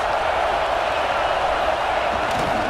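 A home football crowd in a college stadium keeps up a loud, steady roar of cheering and noise that holds evenly throughout, with no clear breaks or peaks.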